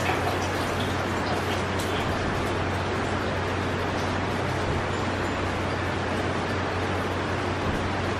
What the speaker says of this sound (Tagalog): Saglit na ulan pa lang yan